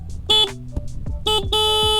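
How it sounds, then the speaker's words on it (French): Horn of a Zero DSR/X electric motorcycle sounding in short blasts: a brief honk, a pause with small clicks, then a longer double honk near and loud, with no talk over it. "Non, en vrai, je voulais faire le klaxon."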